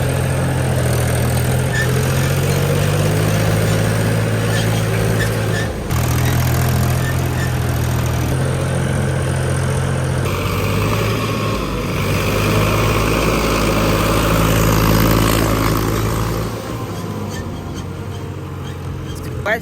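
A tractor engine runs in a muddy paddy field, giving a steady, loud, close low drone with a rough throb that holds for the whole stretch and swells slightly midway.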